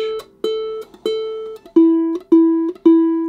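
A concert ukulele string is plucked repeatedly, about seven notes, the pitch dropping and settling as it is tuned, each note ringing and fading before the next.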